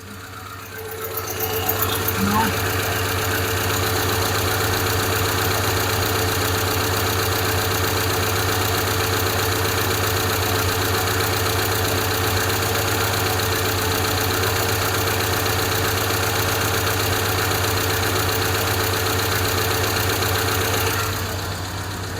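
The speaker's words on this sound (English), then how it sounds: "I got one lifter banging away" A car engine idles steadily up close for a long stretch, a constant rumble with a faint rhythmic ticking knock from one faulty lifter riding on top.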